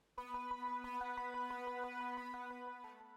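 Unfiltered synth with a bright, static buzzy tone pulses in a steady, even rhythm of repeated notes for about three seconds, moderately quiet and alone.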